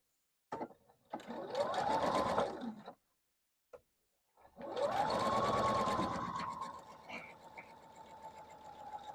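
A sewing machine stitches quilt block pieces together in two loud, steady runs, the motor whining up to speed each time, with a short pause between them.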